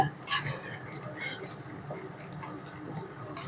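Mysore pak mixture of gram flour and hot oil is stirred in a pan, making a few light metallic clinks of a spoon against the pan. A steady low sizzle runs under faint background noise.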